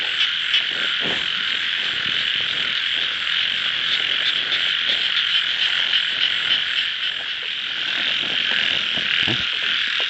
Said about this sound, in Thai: ฟังเสียงเขียดพี่น้องเอ้ย ฟังเสียงเขียด